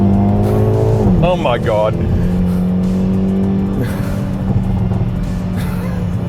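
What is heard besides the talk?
2023 Hyundai i30 Drive-N accelerating from 80 to 100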